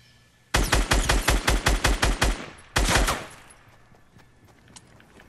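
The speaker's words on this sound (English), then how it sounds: "Eliminated with a rifle." Rifle gunfire in the Fortnite video game: a rapid burst of about ten loud, evenly spaced shots, a short pause, then one more sharp shot that trails off into a fading echo.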